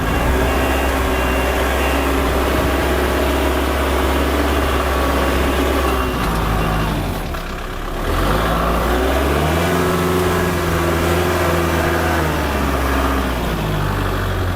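A tractor loader back-drags with its bucket set at a shallow angle; its engine drones loud and steady throughout, with a brief dip in the middle before the low rumble resumes.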